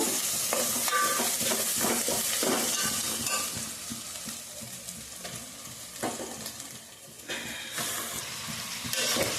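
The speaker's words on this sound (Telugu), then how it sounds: "ఉల్లిపాయలు అయితే వేగుతూ ఉన్నాయి కదండి ఇప్పుడు ఇందులో చికెన్ కూడా వేస్తున్నాను" Chicken pieces sizzle with onions and turmeric in a hot pan for a mango chicken curry, a close, steady frying hiss broken by repeated stirring scrapes, with no one talking.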